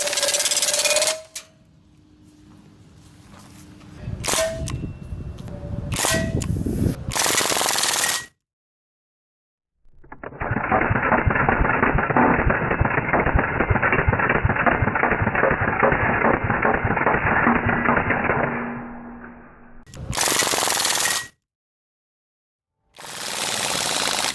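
A Crosman DPMS SBR BB rifle fires on full auto in a long, even rattling burst of about ten seconds, with handling clicks and rustles before and after.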